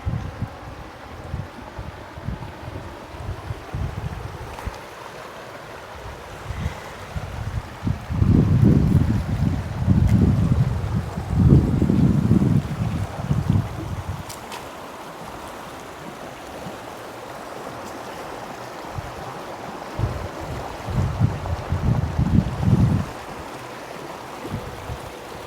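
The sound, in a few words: river water flowing by a lawn on a windy day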